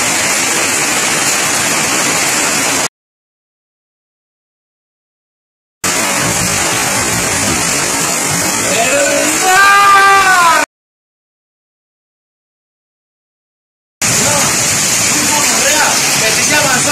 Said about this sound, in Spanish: Está cayendo hielo en Leticia Amazonas!